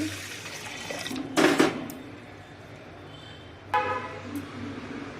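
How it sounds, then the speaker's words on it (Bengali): Lentils being rinsed in a bowl of water for a spinach dal, with splashing, pouring bursts near the start and again later, over a steady background hum. "এই ডালটা আমি ফার্স্টে ধুয়ে ফেলছি"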